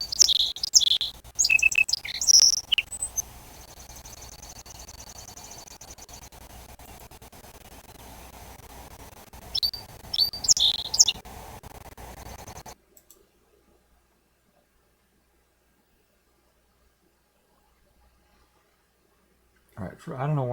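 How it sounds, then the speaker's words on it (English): Bird chirps and tweets played back through a computer, bright repeated calls in short bursts over a faint static hiss, stopping abruptly partway through before a brief return at the end. "Where is that bird sound coming from?"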